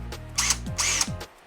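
A Takagi cordless impact wrench spinning freely with no load, two short close bursts of high-pitched motor whine, each winding up and then down, alone.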